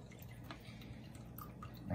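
Wine trickling and dripping through a coffee filter into a decanter, a soft, steady, close-up liquid pour at low volume.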